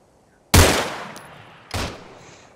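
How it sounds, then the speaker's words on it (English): Two rifle shots in Arma 3 Breaking Point, a sharp loud crack followed by a long echoing tail, then a second, quieter shot about a second later over near silence. "I'm about to shoot him."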